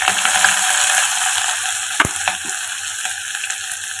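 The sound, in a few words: frying ginger, green chillies and onion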